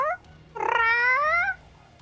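A person imitates a cat's meow in a drawn-out, rising and falling call lasting about a second, loud and close, preceded by a short chirp and followed by quiet.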